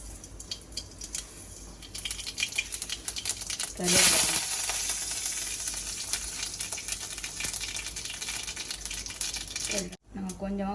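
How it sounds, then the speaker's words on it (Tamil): Oil sizzling in a pan as chutney is tempered, a crackling hiss that swells sharply partway through as ingredients hit the oil, with a person talking over it. "இப்போ நாங்கள் அந்த சட்னியை வந்து தாளிப்போம்"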